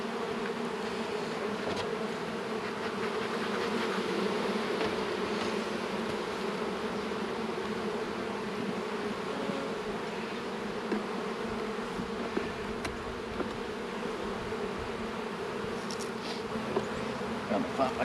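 A honey bee colony hums during a late March hive inspection, a steady dense buzzing close by that continues without a break for the whole stretch, with occasional faint handling noises.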